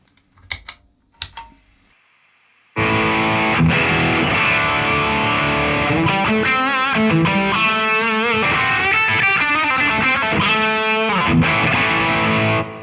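Loud electric guitar through a G3 overdrive pedal into a Boss Katana amplifier, playing a continuous stretch of riffs and sustained notes, preceded by a few brief clicks and quiet moments.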